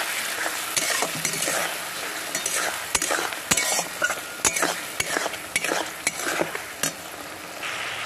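Powdered cumin and coriander masala, pre-soaked in water, sautéed in a pan for a no-onion, no-garlic pea ghugni, with steady sizzling and repeated spatula scrapes and clinks against the pan, fairly loud and close throughout.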